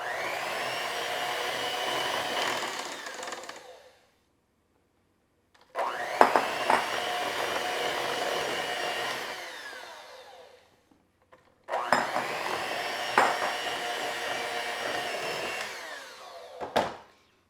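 An electric mixer beats pumpkin chocolate chip cookie dough as dry ingredients are added a third at a time. Three loud, whining runs of a few seconds each are separated by brief silences.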